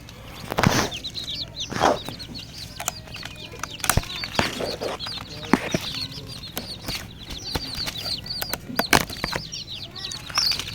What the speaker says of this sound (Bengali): অরিজিনাল দেশি মুরগি বাচ্চা দেখতে পাচ্ছেন খুব চমৎকার